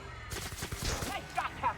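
Gunshot in The Outer Worlds video game, a brief burst of sharp cracks in combat followed by scattered clatter, moderately loud.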